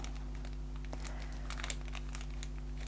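A brown paper bag is folded up by hand for a junk journal, giving soft scattered crinkles and crisp rustles that sharpen midway, close up over a steady low electrical hum.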